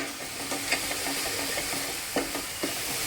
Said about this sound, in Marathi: तर छान अशी आपली मिरची परतून झाली पाहिजे